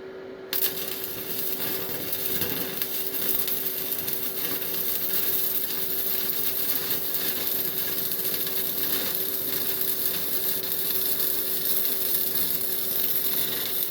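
SMAW stick welding, with the electrode rod weaved back and forth across the joint, gives a continuous close crackle and hiss. It stays at a steady level throughout, with a faint constant hum beneath.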